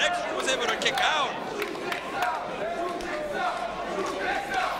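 A wrestling crowd at a GSW independent show, Matt Cross versus X-Dream, roars and chants for a Shooting Star, with many voices blending into a loud, steady din that swells in waves.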